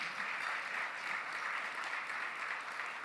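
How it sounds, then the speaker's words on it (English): Sustained applause from a large audience at a formal gala, an even wash of clapping heard from a distance for the full three seconds. "Please give a round of applause to our distinguished presidents."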